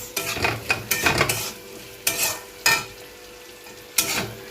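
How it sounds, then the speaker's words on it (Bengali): Potatoes frying over a low flame in a pan, stirred with a utensil: a series of scraping, clattering stir strokes in uneven bursts over a soft background sizzle, close and moderately loud, with no talking. "আলুটা আমি লো ফ্লেমে রেখে হালকা হালকা করে ভাজা করেছি"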